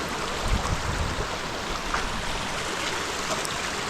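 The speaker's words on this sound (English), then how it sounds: "Here we are standing on a bridge looking at a little creek." A small creek flows beneath a bridge in a eucalyptus forest, giving a steady, even rushing and trickling wash of water heard from just above, with no voices.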